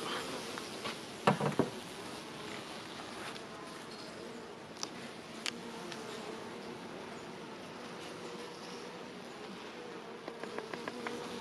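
Honeybees in a hive during winter give a continuous low buzzing drone, with a few sharp clicks and brief rustling bursts over it.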